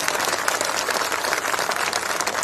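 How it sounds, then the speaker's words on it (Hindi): Loud, dense applause from a large crowd at an outdoor political chaupal rally in Ateli, Haryana, a steady roar of clapping filling the whole stretch without a break. "उनके लिए मैं जोरदार तालियों की गड़गड़ाहट से स्वागत चाहता हूं सम्मानित साथियों"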